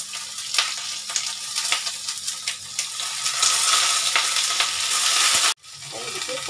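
Cauliflower frying in a pan with mustard seeds, urad dal and onion for a sambar. A loud, close, continuous sizzle runs under irregular stirring clatter and cuts off briefly near the end. No voices.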